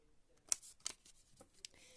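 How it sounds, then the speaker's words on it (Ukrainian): Scissors snip through paper while cutting out the back piece of a handmade paper craft, a few sharp close cuts with brief pauses between them. "І так, е, також вирізаємо цю задню частину."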